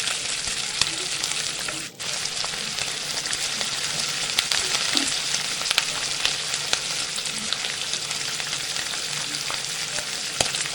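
Moong dal with fish head frying in a pan as turmeric powder goes in, a steady loud sizzle that holds for about ten seconds with a brief stir near the start and no voices.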